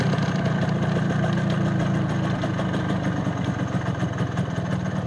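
An MZ ETZ motorcycle engine idles close by with a steady, throbbing low rumble that never changes pace, heard alone with no speech.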